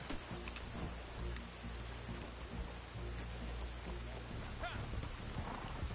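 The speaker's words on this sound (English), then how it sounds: "It is raining like a champ out here." Steady rain in Red Dead Redemption 2, a dense even hiss of falling drops with low rumbling underneath, continuous and moderately faint throughout.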